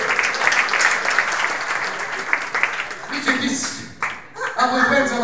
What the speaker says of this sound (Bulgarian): Аплодисмент за нас.